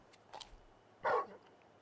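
Torgal, a large dog in Final Fantasy XVI, gives a short bark, one loud close yelp after some fainter soft sounds, with quiet background between.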